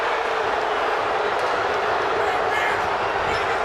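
A dense, roaring crowd fills an arena at a Miami Hurricanes versus NC State Wolfpack women's basketball game in Reynolds, a loud continuous wash of cheering with a voice speaking under it.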